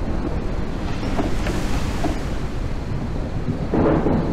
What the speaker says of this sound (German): Das war mal ein Gewitterchen, hä?